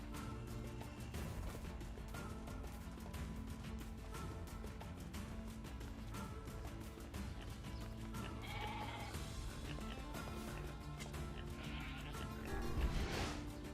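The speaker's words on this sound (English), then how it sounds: "You fuck off, goat." A goat bleats in the video game Nier Replicant, its cry rising near the end over steady, dense game music and ambience that play throughout.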